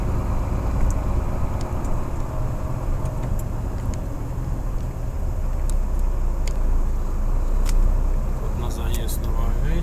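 A truck rolls slowly onto the weighing scales at the Polish border, its engine giving a steady, close, low rumble throughout with a few faint clicks above it, while someone talks over it.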